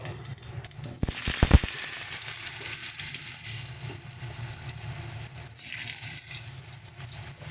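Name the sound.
potatoes and vegetables frying in hot oil with panch phoron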